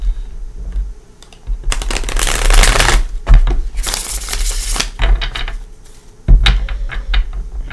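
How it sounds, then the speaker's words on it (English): Tarot cards are shuffled in bursts close to the microphone, with dense papery riffles and soft slaps between brief pauses. "the sound of shuffling cards to me, or me shuffling cards, is so relaxing"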